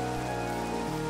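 Steady rain in Minecraft, a dense, constant hiss of drops on surfaces mixed with sustained background game music tones, alone with no talking.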